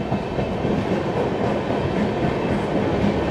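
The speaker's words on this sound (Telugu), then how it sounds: "ప్లాట్ఫామ్ నెంబర్ 3 పైకి అయితే వచ్చింది మన ట్రైన్" The Tirumala Express pulling into a platform at Anakapalli station, a steady close rumble with faint rhythmic wheel clatter and no speech.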